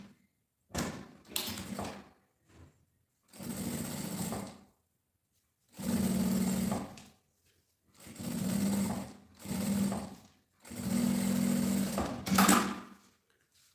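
A sewing machine stitches a seam through bag lining in five or six short bursts of steady mechanical whirring, each lasting about a second, with silent pauses between runs; close and clear, with no talking.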